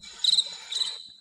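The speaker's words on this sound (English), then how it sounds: "While the crickets are chirping." A crickets-chirping sound effect gives a short, bright trill in two pulses, fairly loud against near silence.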